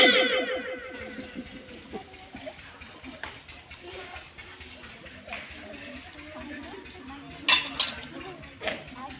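Dishes, cutlery and clothes being washed by hand: metal utensils clink and clatter with splashing water, loudest at first, then scattered clinks and knocks throughout.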